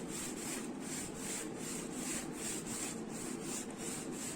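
A bone folder burnishes folded paper for a shabby chic mini album, a close, soft rhythmic rubbing of quick back-and-forth strokes repeating steadily throughout.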